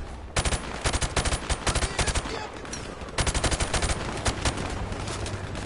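Video game gunfire rattles in two loud, rapid bursts of automatic shots, each a quick string of sharp cracks, separated by a brief lull over a low background hum.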